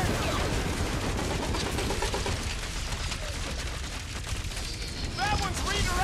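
Rapid gunfire and blasts fill a battle in the video game Marvel's Guardians of the Galaxy, with a loud, dense barrage of shots and impacts over ongoing combat noise and a few rising electronic whines.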